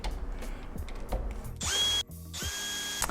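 A power driver sets screws into the strike plate of a Schlage Encode Plus smart lock. Short handling clicks come first, then two loud, close bursts of whining motor with a brief pause between them.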